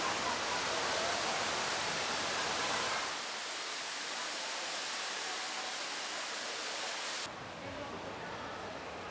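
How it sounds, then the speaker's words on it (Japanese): A waterfall in Singapore roars as a dense, steady rush of falling water, heard from behind the falls, loud and close throughout, its tone shifting slightly partway through. "さっき下から見たこの滝の今内側にいます。"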